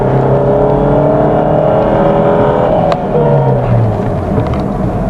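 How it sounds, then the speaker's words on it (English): Ford Fiesta 1.6-litre Duratorq engine revving hard in first gear, a loud, steady drone of rising pitch that holds close and strong with a brief dip midway, no voices present. "and it goes up to 5000 rpm"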